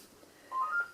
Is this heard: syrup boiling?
no